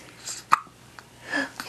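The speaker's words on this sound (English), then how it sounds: "You got the hiccups?" A one-week-old baby hiccups close by: a sharp little hiccup stands out, with a couple of fainter breathy catches and soft baby sounds around it in a quiet room.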